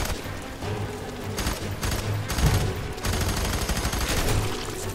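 Rapid bursts of gunfire in the video game FEAR 3, loud and close, with clustered shots, a few heavier thumps and short pauses between volleys.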